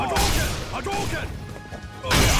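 A Hadouken fireball in Street Fighter V: a sharp crashing impact with bright whooshing game effects, then a second heavy hit near the end, loud against the background of the match.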